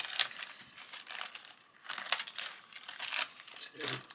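Plastic bag holding sprues from an Italeri 1/32 Tornado ECR/GR4 model kit crinkles and rustles in several close, soft bursts as it is handled and opened.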